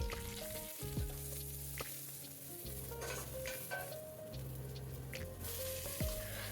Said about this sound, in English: Then for the sambar, I started with the tempering.